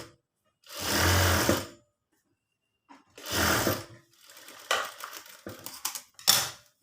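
A sewing machine runs a rough stitch along the neckline of an embroidered blouse in two steady close bursts, followed by short stop-start runs with brief pauses and no talking.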